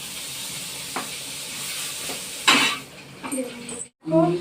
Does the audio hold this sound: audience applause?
no